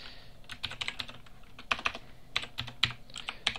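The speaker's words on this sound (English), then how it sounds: "So click enter to go to the next line, and you're going to type" Rapid, uneven clatter of keys on a computer keyboard as code is typed, close and clear with short bursts and brief pauses, no voices.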